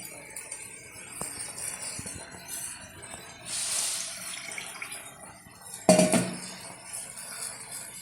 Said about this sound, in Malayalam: വെള്ളം കുറച്ചും കൂടെ ഒഴിക്കാം, ചൂടുവെള്ളം.